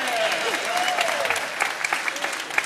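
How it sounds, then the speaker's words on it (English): A holiday program audience at a Rotary Club event gives a round of applause, steady dense clapping filling the whole stretch, with a faint melodic tone drifting underneath. "If we could give a round of applause for Debbie Day."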